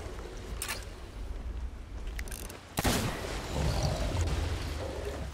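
A ship's cannon in the pirate game Sea of Thieves fires during a battle against a sloop, one sharp booming shot in the middle after a few fainter thuds, followed by rumbling water and ambience.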